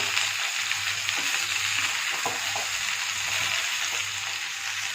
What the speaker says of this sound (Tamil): காய் நான் வதக்கிட்டு இருக்கேன்